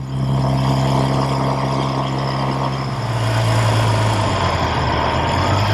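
A 1969 Triumph Daytona 500 motorcycle engine drones steadily while riding in fourth gear at about 55 mph, loud and close with a low throbbing hum, the pitch shifting partway through, under broad wind rush.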